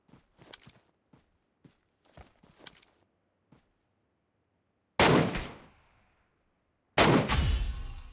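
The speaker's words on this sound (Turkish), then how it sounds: "Oradan sıkıp duruyorlar dikkatimi çekiyorlar." Two loud bursts of gunfire in a battle royale video game ring out, each a sharp blast with a short decaying tail, following a stretch of soft scattered footstep-like taps.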